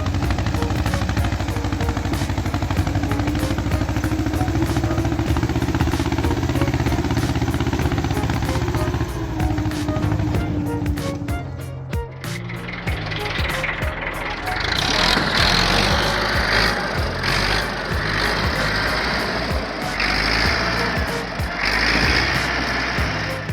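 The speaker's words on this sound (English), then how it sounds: "This IMT tractor is straining to pull massive, long logs weighing tons through a relentless muddy swamp." An aging IMT tractor hauls long, heavy logs through a muddy swamp, its engine droning and laboring steadily before the tone shifts midway into a harsher, higher strain with rattling, and voices can be heard talking over it.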